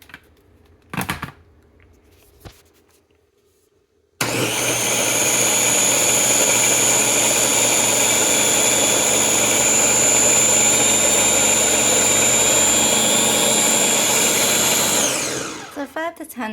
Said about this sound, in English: We'll blend it a little bit more.